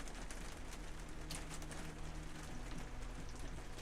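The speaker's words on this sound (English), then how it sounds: "Oh, you love the rain?" Steady rain falling on a surface, a dense constant patter with scattered louder drops and a low hum underneath, no talking.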